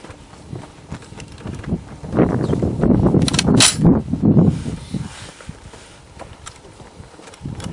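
A Springfield M1A (M14) rifle, just overhauled, test fired outdoors on a windy day: a cluster of sharp, loud reports near the middle, with broadband wind rumble throughout.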